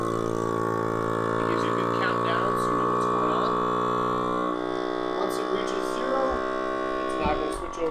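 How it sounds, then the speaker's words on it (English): An Excalibur EPV12 12-inch pro vacuum sealer runs its ten-second vacuum cycle, giving a steady motor hum with a slight drop partway through, heard close and alone. "The vacuum's working. It's on a 10-second vacuum cycle."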